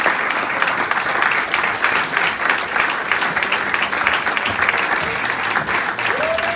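Audience applause at the Pride of Formby community awards ceremony, sustained clapping from a seated crowd filling the hall at an even level throughout.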